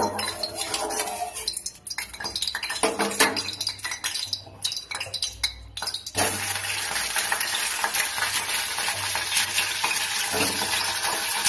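Cauliflower pieces frying in oil in a home kitchen for a cauliflower, potato and fish curry, with steady sizzling and clinks of a utensil stirring against the pan, louder and more continuous in the second half.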